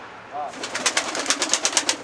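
Pigeons in a coop at a truckers' garage, a run of soft, rhythmic pulses rising after a quiet start and repeating steadily at close range.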